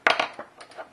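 A garlic bulb and a handful of herbs are tossed into a food processor bowl for a Cuban mojo pork marinade: a quick run of light, hard clatters, loud at first and then tapering off, with no speech.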